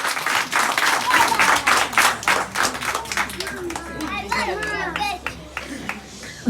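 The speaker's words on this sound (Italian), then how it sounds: "Facciamo un grande applauso" Small group at a child's birthday party clapping in a brisk, uneven burst, with children's voices and chatter rising over and after the clapping.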